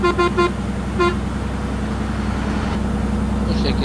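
Second horn on a bus in Euro Truck Simulator 2, likely a Mercedes Tourismo: several short, loud honks in quick succession, then one more, over a steady low engine drone.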